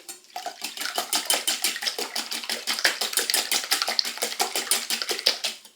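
Eggs being whisked by hand in a bowl for a courgette and fresh mint flan batter, a quick steady run of bright clinking, scraping strokes against the bowl, close and fairly loud with no talking.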